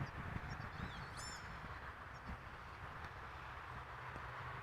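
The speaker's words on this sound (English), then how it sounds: "got a flock of birds passing over me. Making some noise." A flock of birds passing overhead near the runways at Amsterdam Schiphol Airport, with brief high chirps and calls early on over a steady loud rumble of airport and aircraft noise.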